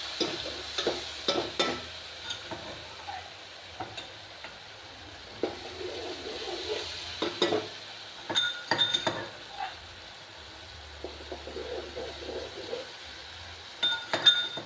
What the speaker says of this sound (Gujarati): તો હવે આપણે તેમાં આ પેસ્ટ છે જે આદુ લસણ મરચું આ બધું જે પેસ્ટ બનાવી હતી એ આપણે આમાં નાખશું